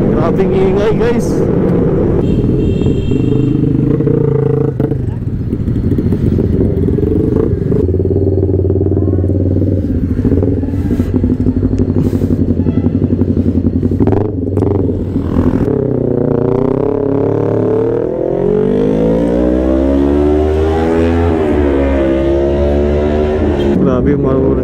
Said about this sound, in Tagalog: Grabe yung marurot yung mga motor dito